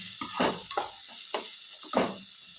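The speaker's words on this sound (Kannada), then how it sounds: "ಈಗ ನೋಡಿ ಎಷ್ಟು ಚೆನ್ನಾಗಿ ಫ್ರೈ ಆಗ್ತಾಯಿದೆ" Vegetables frying in a pan for Indian-style masala vegetable pasta, a soft continuous sizzle broken by four quick scraping stirs of a spatula, close and moderately loud, with no voices.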